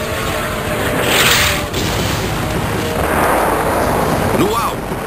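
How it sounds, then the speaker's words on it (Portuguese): Heavy naval gunfire from the German battleship Bismarck in a sea battle against HMS Hood, a loud sustained rumble of salvo booms with a swelling blast near the start, dense and continuous throughout. "Alguns tiros curtos, outros longos e, finalmente, o tiro fatal."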